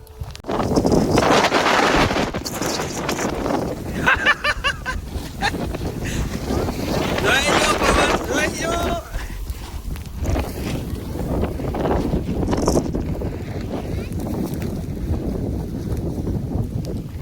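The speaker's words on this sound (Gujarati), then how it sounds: "કેમ પણ પવન હે બા?" Wind gusting during a heavy rainstorm outdoors, buffeting the microphone with loud, uneven roaring bursts, while brief voices come and go beneath it.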